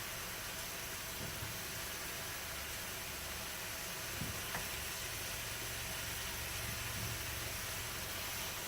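Yellow squash spaghetti sautéing in a pan gives a steady, soft sizzling hiss with a few faint clinks of stirring, continuous and fairly quiet.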